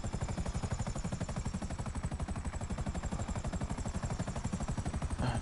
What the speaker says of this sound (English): I'm gonna bring this helicopter down.